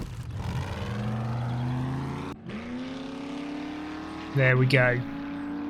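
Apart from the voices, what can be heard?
vehicle engine in video game 7 Days To Die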